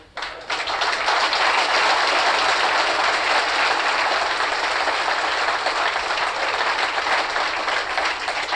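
An audience claps in a dense, continuous wash of applause that starts abruptly and holds at a steady, loud level, with no voices over it.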